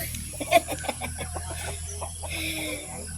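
Chickens cluck in a short run of close clucks, then quieter scattered clucking over a steady low background hum.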